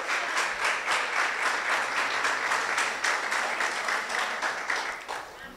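A church congregation applauds with strong, steady clapping that fills the room, a dense sustained burst that begins to fade toward the end.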